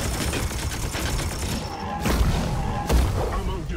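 Bolter fire from a bolt gun in Warhammer 40k: Chaos Gate – Daemonhunters: a dense, continuous rattle of shots with two heavier impacts near the end, heard alongside faint speech.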